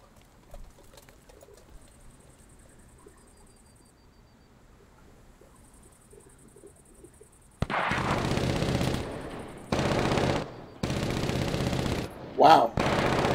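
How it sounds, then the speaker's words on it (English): Automatic gunfire erupts in the battle royale video game Cuisine Royale, with loud sustained bursts of rapid fire starting abruptly after a quiet stretch of faint ambient sound and bird calls. "Somebody shooting right here."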